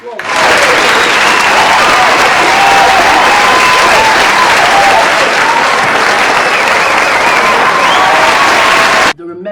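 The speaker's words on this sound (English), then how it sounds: "let's give them a round of applause." A crowd bursts into loud, sustained clapping and cheering that holds steady for several seconds before cutting off abruptly.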